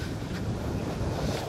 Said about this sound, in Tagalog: Medyo mahangin lang yung weather.